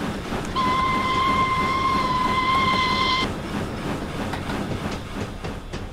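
A steam locomotive, the Caledonian Railway Pug, in Train Simulator 2018, gives a loud, sustained whistle for about three seconds over a steady rumbling chuff of the running engine, which carries on alone after the whistle stops.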